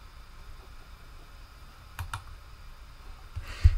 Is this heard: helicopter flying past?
no